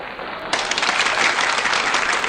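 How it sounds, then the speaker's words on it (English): A burst of applause from a small group starts suddenly and continues steadily, fairly loud. "Give yourself some applause."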